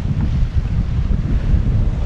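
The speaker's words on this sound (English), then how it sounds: "I'm fishing off a slipway onto a sandy beach." Wind buffets the microphone over steady surf on a sandy beach beside a slipway, making a constant low rushing roar with no voices.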